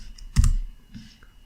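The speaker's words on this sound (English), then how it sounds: "And then typing ethereum.enable." Keys clatter on a computer keyboard in a quick burst of several clicks, up close, with a couple of faint taps after.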